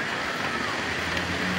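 Heavy rain pours down over Padang, a dense, continuous hiss of water with no breaks, steady and fairly loud throughout the short stretch.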